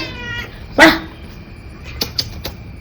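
A single close, drawn-out cat meow rises out of quiet indoors, from a cat sitting on a sofa, followed by a few short, sharp clicks and taps.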